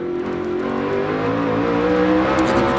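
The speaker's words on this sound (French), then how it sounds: "le restart avec Greg Biffle, donc, qui va lancer la meute devant Clint Bowyer" NASCAR Busch Series race cars at Kentucky on a restart, heard from an onboard camera: a loud, continuous engine roar that climbs steadily in pitch as the car accelerates, with no talking.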